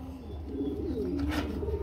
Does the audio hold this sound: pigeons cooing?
yes